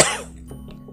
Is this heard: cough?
yes